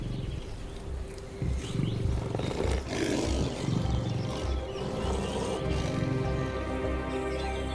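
Lions roar and growl at a waterhole in Etosha, Namibia, with deep, close, repeated calls running through most of the stretch. Faint bird chirps sound in the background.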